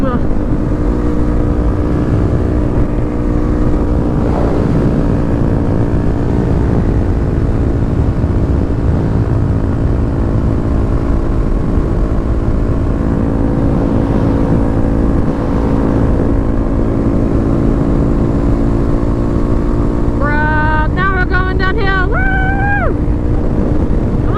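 A Honda Grom small motorcycle rides through a forest, its engine a steady, loud, close drone throughout, with a brief rising rev near the end.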